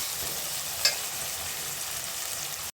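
Chopped tomatoes sauté in oil in a pan for Tamil-style puli kuzhambu, a soft steady sizzle with one brief clink of a spoon partway through, before the sound cuts off abruptly near the end.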